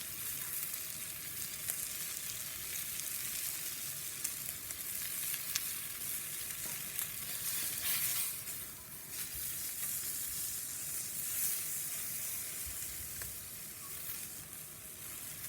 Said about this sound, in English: the soapstone I found is the best way of searing the steak